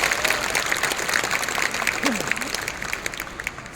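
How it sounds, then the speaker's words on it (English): A seminar audience at a business course in Bangkok applauds with dense, continuous clapping throughout, and a few voices and a brief whoop rise over it. "Can we give James a round of applause?"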